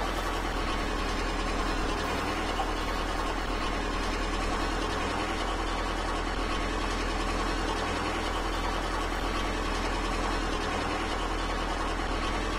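A car engine held at full throttle in the driving video game The Long Drive gives a steady, unchanging drone with a low rumble that continues evenly throughout, without speech.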